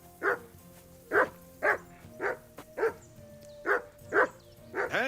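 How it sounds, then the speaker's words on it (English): A dog in Kingdom Come: Deliverance 2 barks repeatedly, about nine sharp woofs spaced roughly half a second to a second apart, moderately close over quiet game ambience, no speech. "Henry, whistle at that mutt of yours to stop"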